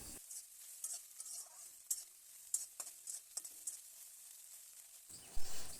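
Beaten egg sizzles and crackles in hot oil in a kadai for egg chowmein, with scattered scraping taps of a spatula stirring it into small pieces, ending in a louder burst of frying.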